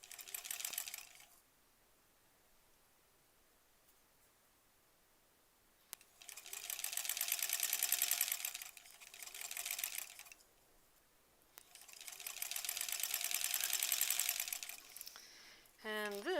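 A domestic sewing machine stitches quilt blocks in three bursts of rapid, rattling needle action, separated by quiet pauses, with a short clatter at the end.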